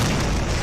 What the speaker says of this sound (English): Suddenly, a mighty explosion rocks the campus.